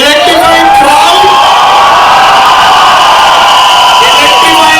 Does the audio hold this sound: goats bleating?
no